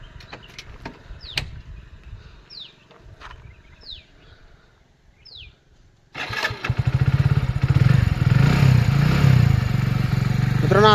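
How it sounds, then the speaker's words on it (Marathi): Black motorcycle engine, due for servicing, starts after a quiet stretch of birdsong and clatter, then runs loud and steady with a throbbing idle and a slightly heavy, noisy tone. "आता गाडीचा आवाज बघू शकता तुम्ही, थोडंसं मोठा येत असन"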